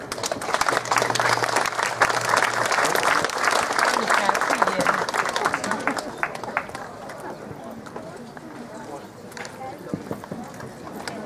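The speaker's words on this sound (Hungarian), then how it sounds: "Fogadjuk őt nagy tapssal." Loud, sustained audience applause at a Krishna wedding ceremony in Budapest, dense clapping filling the first several seconds before thinning out and fading toward the end.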